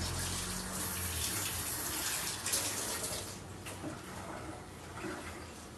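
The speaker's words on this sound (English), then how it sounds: "Wash my hands." Tap water runs steadily into a sink as hands are washed under the stream, a continuous close splashing hiss that holds for several seconds.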